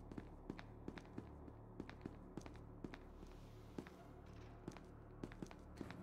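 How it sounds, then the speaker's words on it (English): Heavy non-human footsteps in the SCP: Secret Laboratory video game: a steady run of soft thuds and taps at an irregular walking pace, moderately close over a low droning game ambience. "I'm hearing footsteps."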